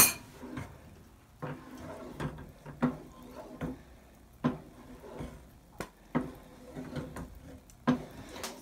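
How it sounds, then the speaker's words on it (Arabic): Beaten eggs being stirred in a pan for pastilla, with a spoon knocking against the pan in repeated sharp clacks every second or so, close and fairly loud, with faint background sounds. "صافي هنا غنرمي هاد البيض اللي خلط هذوك السبعه البيضات."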